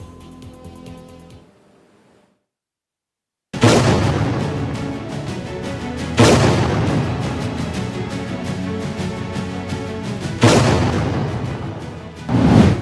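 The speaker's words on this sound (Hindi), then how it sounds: "एक के बाद एक लगातार धमाके हो रहे हैं" Loud successive explosions in a news report on unrest in Balochistan, Pakistan: a faint rumble, a short silence, then three heavy booming blasts at roughly three-second intervals, each followed by long rolling reverberant noise.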